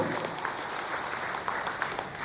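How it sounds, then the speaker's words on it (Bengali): An audience at a team meeting applauds in a dense, even patter of clapping that holds steady for a couple of seconds, heard from somewhat distant and with no clear voices over it. "একটা জোরে হাততালি দিন এই জন্য।"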